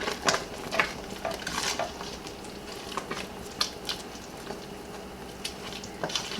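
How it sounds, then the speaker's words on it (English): Sugar being stirred into boiling blackberry hot pepper jam, a spoon scraping and clinking irregularly against the pot over a steady bubbling sizzle. "we're going to add our sugar and stir that in."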